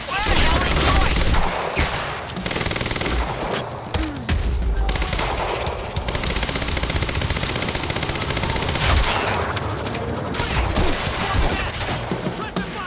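Sustained gunfire in the Quantum Break video game: bursts of automatic fire and single shots crackle continuously and loudly through a library firefight, with shouted voices mixed in.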